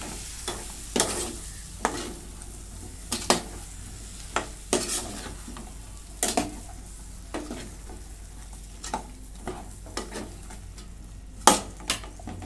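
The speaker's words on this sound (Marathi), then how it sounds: "आता याच्यामध्ये टोमॅटो टाकून घेते आणि आता परतून घेते" Tomatoes sautéing in a pan for a masala: a soft sizzle runs underneath while a spoon scrapes and stirs in irregular strokes, each one a sharp scrape or clatter, close up and without speech.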